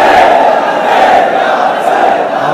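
A large crowd at a religious gathering chants the slogan Labbaik in unison, a loud, sustained roar of many voices that swells and holds steady without a break.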